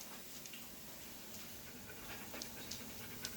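A dog pants quietly close by in a kitchen, with soft rapid breaths over a low steady hum and a few faint clicks.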